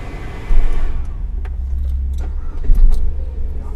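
An SRM 868 van's engine catches with a low rumble that jumps up sharply and settles into a steady, close idle, with a brief jangle of keys.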